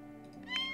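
A cat meows once in The Sims 4, a short, moderately loud in-game cry rising over a faint soft background.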